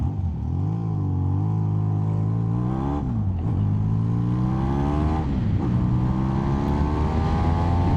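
A Yamaha XJ600 motorcycle accelerating on the road, its engine note rising steadily through the gears, loud and close from the rider's position, with brief dips at each gear change and no talking.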